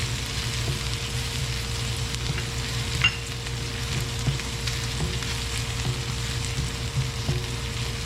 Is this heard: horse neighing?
no